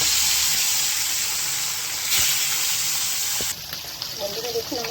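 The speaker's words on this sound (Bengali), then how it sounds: "এবার আমি মাছগুলোকে ভেজে নিচ্ছি।" Rohu fish pieces sizzle and spit in hot mustard oil in a pan, a bright steady frying hiss that eases and turns more crackly toward the end.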